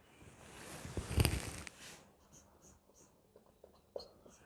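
Units being written on a board during an 11th-class physics lecture: a close, scratchy stroke swelling for about two seconds, followed by a few lighter taps and scrapes, with no talking.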